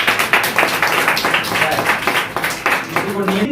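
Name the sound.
loud applause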